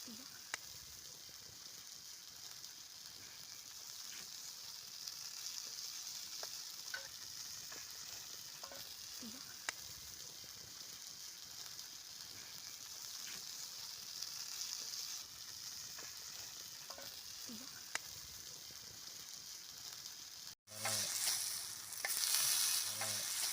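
Fish frying in hot oil over a high fire, a steady close sizzle with occasional stirring clatter, continuing unbroken until a sudden louder shift near the end.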